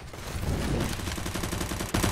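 Rapid gunfire in a Counter-Strike match on Mirage, with dense clattering shots fired in quick succession and a sharper burst near the end.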